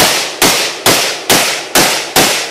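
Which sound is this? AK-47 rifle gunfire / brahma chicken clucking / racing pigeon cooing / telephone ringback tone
AK-47 rifle gunfire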